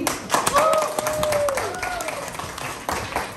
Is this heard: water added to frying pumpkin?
no